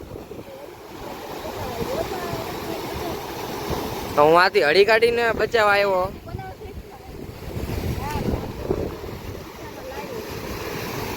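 Sea waves surge onto a beach shore in a steady, rushing roar mixed with buffeting wind noise, while a voice talks over it for a few seconds in the middle.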